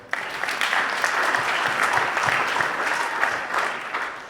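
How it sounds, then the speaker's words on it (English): Steady applause from a crowd at a high school athletic awards event, dense clapping that holds at an even level for several seconds. "you can round of applause"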